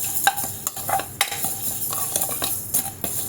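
Kachori spices dry-roast lightly in a pan, with a spoon scraping and tapping against the metal in repeated stirring strokes over a faint crackle.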